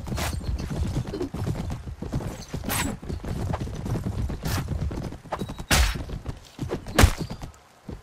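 Horse hooves clip-clopping at a gallop in the medieval combat game Mount & Blade: Warband (Brytenwalda mod), a steady rapid beat with louder thuds and clattering impacts breaking through near the end.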